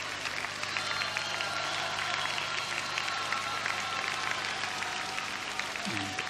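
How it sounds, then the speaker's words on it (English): Spectators applauding at the 1994 European Amateur Latin dance championship, a steady wash of distant crowd clapping that holds evenly throughout, fairly faint and with no voices over it. "thanking the audience for their applause and support"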